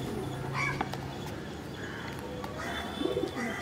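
An old racing pigeon, around eighteen or nineteen years of age, gives soft repeated coos close by, over a quiet background with faint bird chirps.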